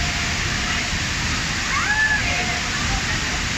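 Waterfall at Baler, Aurora, a loud, steady roar of falling water filling the scene close by, with voices talking over it.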